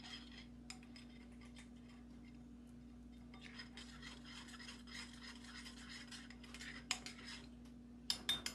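Soft scraping and rubbing of a spatula stirring melting gelatin in a bowl, faint and close, with a steady low hum behind and a few sharper clinks near the end.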